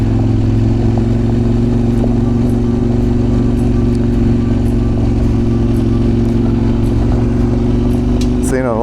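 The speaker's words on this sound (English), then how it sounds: "these guys don't like this damn twin parallel coming through here just thumping" A CFMoto Ibex 800T parallel-twin motorcycle engine idles loudly with a deep, steady thumping rumble close by, then briefly revs near the end.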